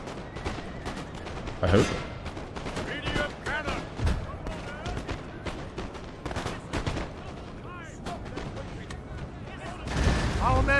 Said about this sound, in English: At least these cannons are still functioning.